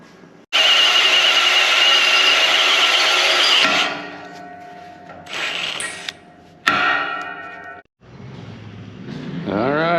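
A power tool whines loudly for several seconds cutting a light hole in an equipment trailer, then stops and restarts in shorter bursts, with a rising motor spin-up at the end.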